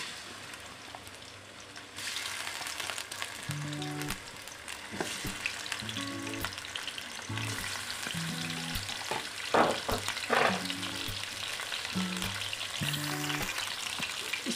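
Chicken pieces frying in a cup of hot cooking oil in a kadhai: a loud continuous bubbling sizzle with crackles and spatters, punctuated by stirring clatters and occasional sharper pops throughout.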